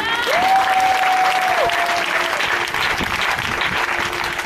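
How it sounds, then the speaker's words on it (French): A church congregation at a Sunday service in Côte d'Ivoire bursts into full applause, a loud, sustained wash of clapping that fills the room, with a ringing electronic tone rising briefly above it. "Est-ce qu'on peut acclamer le Seigneur?"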